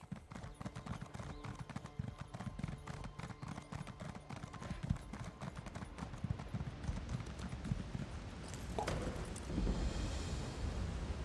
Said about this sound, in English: Look at that horse, beautiful. Look at my horse.